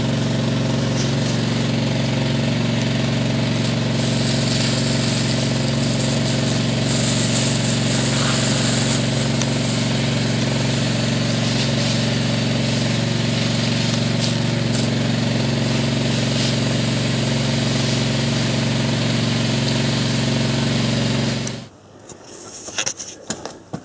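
A fire pump engine runs continuously and loudly during a fire hose test, a steady droning hum with hissing spray over it that cuts off abruptly near the end, leaving a few quiet knocks.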